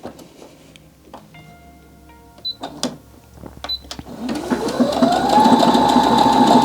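A Baby Lock Jubilant portable sewing machine stitching through fabric and stabilizer on a pre-programmed stitch. Scattered clicks and taps come first, then the motor winds up into a steady, loud mechanical whir that holds to the end.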